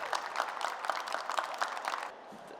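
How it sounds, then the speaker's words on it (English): Audience applause at a fashion industry talk event, a short burst of scattered clapping from a modest crowd that fades out after about two seconds. "Please give Benji a round of applause."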